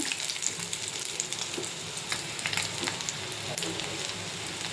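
Fish frying in hot oil: a dense, continuous crackling sizzle heard up close, with rapid spitting pops throughout and no voices.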